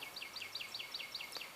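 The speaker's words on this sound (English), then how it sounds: "listening to the beautiful birds singing" A bird in the woods repeats a quick, high, two-part chirping phrase about eight times in a steady rhythm, clear and fairly near over quiet background.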